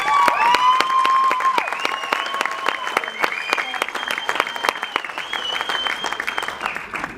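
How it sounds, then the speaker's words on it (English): Steady round of applause from a banquet audience at a softball awards evening, honouring a coach, with dense clapping, a few whistles and cheers throughout, close and full, easing slightly toward the end. "So one more round of applause for Michelle."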